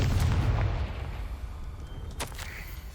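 Casting Confringo in Hogwarts Legacy sets off a fiery explosion: a deep booming blast that rumbles and fades, followed by a sharp crackling burst a moment later, with no talk over it.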